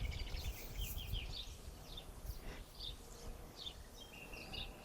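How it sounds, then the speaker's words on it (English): Outdoor nature ambience with scattered bird chirps and calls over a soft, steady background buzz of bees and flies, fairly faint and continuous, no voices. "submerged into this sound of nature, birds, buzzing bees"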